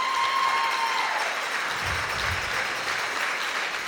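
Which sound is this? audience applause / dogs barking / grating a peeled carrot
audience applause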